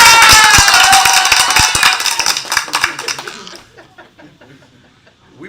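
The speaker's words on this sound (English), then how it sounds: "We bring our own round of applause" A round of applause from a small group in a morning talk-show studio, dense hand claps loud at first, then thinning and fading out to near silence.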